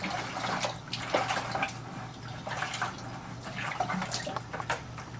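Water runs steadily through a spigot, a constant splashing hiss with small drips and spatters.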